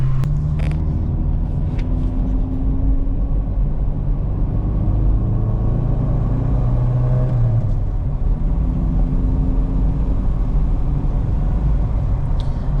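A 1987 VW Jetta MK2 with a manual swap drives along, its engine droning loudly and revving up with rising and falling pitch, road rumble steady beneath and a few faint clicks.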